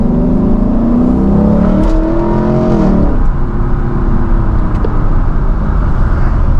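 A Lexus LC 500 V8 revs loudly and close up while driving, pitch climbing for a few seconds before easing into a steady, throaty drone with no talk.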